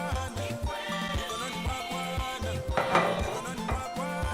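Dry ingredients for Nigerian puff puff dough, nutmeg, ginger, salt and sugar, being mixed in a bowl: rhythmic scraping and clinking of a utensil against the bowl with repeated short strokes, fairly close, no talking.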